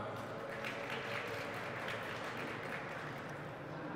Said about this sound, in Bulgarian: И така, долу в дясно, вашите аплодисменти за Giant.